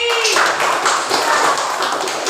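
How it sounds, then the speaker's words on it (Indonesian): A group breaks into brisk, dense clapping that holds evenly for a couple of seconds, close and fairly loud with no talk over it. "Tepuk tangan sekali lagi."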